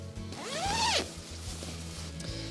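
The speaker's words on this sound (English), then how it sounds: "And as I just unzip this," A zipper on a Marmot Cloudbreak 20 degree sleeping bag being opened in one quick rising zip lasting under a second, close to the microphone, followed by faint rustling.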